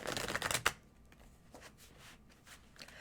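A quick riffle of tarot cards being shuffled, close and crisp, lasting under a second, then quiet room tone with faint soft rustles.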